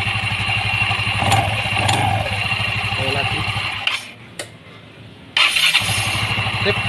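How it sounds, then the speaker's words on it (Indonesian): A Yamaha Xeon 125 scooter engine is started and revved after an electrical repair. It runs loudly and close with a steady throb, cuts out briefly, then fires up again. "starter dihidupkan, mesin dihidupkan. Oke, langsung reng kita motor."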